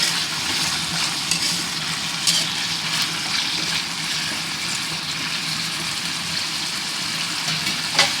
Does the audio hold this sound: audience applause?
no